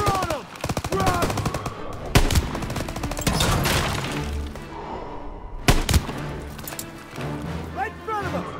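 Sniper and rifle fire on a Call of Duty WWII battlefield, with several loud sharp shots and rapid bursts over shouting voices and a constant rumble of combat.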